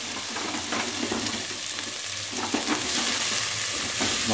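Chopped onion and leek sizzle steadily in a hot pan for a vegetable stew, a dense continuous frying hiss with occasional soft stirring scrapes, close and fairly loud, no voices.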